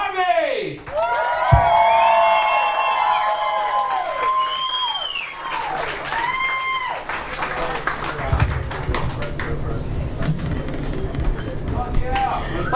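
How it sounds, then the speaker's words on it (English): Stand-up comedy crowd at Top of the Stairs applauding and cheering as comedian Kat Harvey takes the stage, steady clapping with whoops and shouted voices mixed in, loud and sustained throughout. "I want everybody to give a big round of applause for Kat Harvey!"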